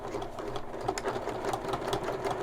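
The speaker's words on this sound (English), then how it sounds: "make sure that you are still stitching this seam right directly on top of the other one" A sewing machine runs steadily, stitching a seam on a fabric shoulder bag, with a continuous mechanical whir and rapid needle rhythm at close range and no talking.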